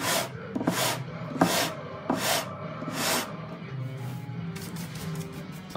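Steady back-and-forth sanding strokes on a wooden guitar fretboard during a refret, rhythmic rasping passes close to the microphone, a quicker run of short strokes at the end, with no talking.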